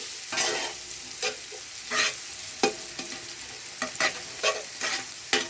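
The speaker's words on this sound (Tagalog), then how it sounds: "Yung nakatas yung luya sa mantika, oh." Ginger frying in cooking oil sizzles continuously, while a spoon or spatula scrapes through the pan in repeated stirring strokes, near and moderately loud, with no talk.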